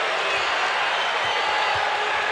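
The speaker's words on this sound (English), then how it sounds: "Crowd starts to make some noise." Arena crowd at a 1993 Sonics vs Bulls NBA basketball game, a steady broad roar of many voices filling the space, loud and continuous with no break.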